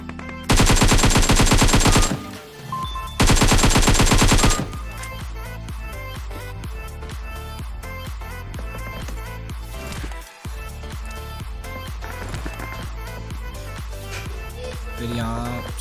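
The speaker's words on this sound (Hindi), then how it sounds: "तो मुझे साइड से फायरिंग की साउंड आई थी।" Automatic weapon fire from PUBG Mobile, with two loud sustained bursts of rapid gunfire near the start, then quieter continuous game sounds and scattered shots for the rest.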